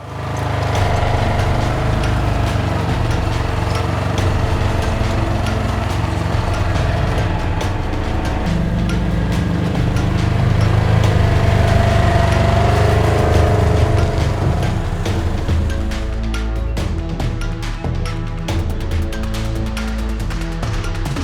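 A loud tractor engine runs steadily with a churning mechanical roar while tilling dirt for a deer food plot, the pitch swelling and dipping slightly as the machine works the ground.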